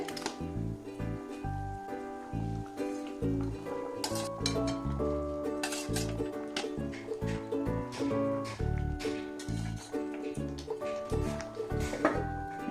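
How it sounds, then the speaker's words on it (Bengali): Pieces of rohu fish go into boiling gravy in a cooking pan, with steady sizzling and bubbling under clinks and stirring scrapes of a utensil against the metal, close and continuous. "এবার মাছগুলো দিয়ে দেবো ঝোলটা ফুটে উঠেছে"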